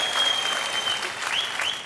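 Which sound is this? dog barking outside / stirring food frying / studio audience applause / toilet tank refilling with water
studio audience applause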